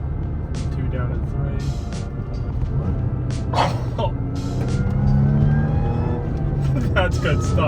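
A supercharged Audi engine with a CAP intake revs and shifts gears from inside the car, its steady drone joined by a rising whine. A voice is heard at moments over the engine.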